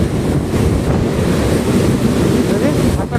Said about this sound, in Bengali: শুধু গেটগুলো খোলা দেখো, এই দেখো কিরকম জলের স্রোত